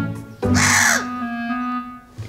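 A cuckoo at a veterinary clinic gives a single harsh, raspy call up close, followed by a steady low hum.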